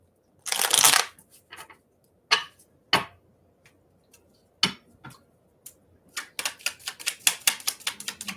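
Tarot cards shuffled and drawn by hand: a brisk burst of riffling, then scattered sharp flicks and snaps as single cards are pulled and laid down, close and otherwise quiet.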